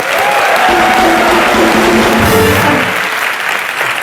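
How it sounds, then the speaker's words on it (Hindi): Studio audience on a comedy talk show breaks into loud, sustained applause that fills the room steadily for about four seconds, with faint crowd voices mixed in. "हमारी हेमा जी के लिए एक बार जोरदार तालियां।"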